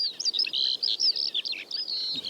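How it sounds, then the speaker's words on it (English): A skylark sings in a continuous, rapid stream of high chirps and warbles, close and clear in an otherwise quiet open setting. "it sounds like that skylark is in the middle of my brain somewhere"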